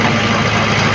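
A tractor engine runs steadily with a 7-foot rotavator attached during an RPM check, a loud, close, continuous low rumble with no talking.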